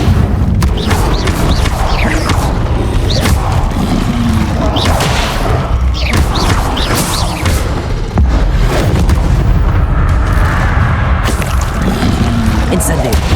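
Fiery Incendio spell blasts in Hogwarts Legacy, loud booming bursts and crackling impacts repeating amid dense, continuous combat noise with no clear gaps.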